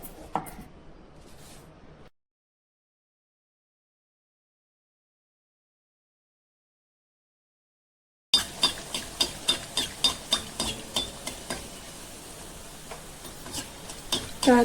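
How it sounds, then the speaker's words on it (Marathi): Masala puris frying in hot oil while oil is spooned over them, giving a steady close sizzle with a quick series of sharp spoon taps against the pan, after a brief burst of kitchen noise and a long silence. "पुऱ्यांना असं वरून तेल सोडत राहायचं आहे"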